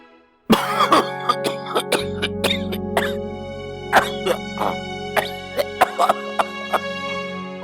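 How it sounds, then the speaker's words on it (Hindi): An elderly man coughing repeatedly in a home setting, a series of harsh, close coughs and throat clearing in uneven bursts over a steady low hum, with a sustained musical tone running beneath. "हमेशा ऐसी खांसी रहती है ना?"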